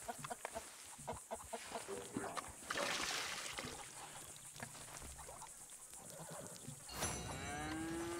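On a ranch in Red Dead Redemption II, a cow lets out a low moo among farm animal sounds, with clucking chickens and other livestock noises in a busy, fairly quiet outdoor scene.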